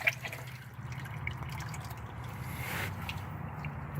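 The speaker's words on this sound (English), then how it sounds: "we're going to let this finish draining and get as much as we can out" Used engine oil draining from a Nissan Maxima during an oil change, a soft steady trickle with faint drips, low and continuous throughout.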